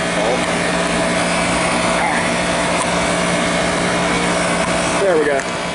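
A hydraulic extrication tool's power unit, which has no throttle, runs flat out at full output, giving a steady, loud mechanical drone with a constant hum that holds unchanged throughout.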